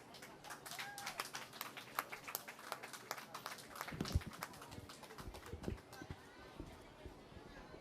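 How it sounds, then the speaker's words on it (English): Audience applauding at a youth rabbit and poultry dress-up show, a dense run of scattered hand claps close by, with voices and a few louder thumps mixed in. "give everybody a round of applause"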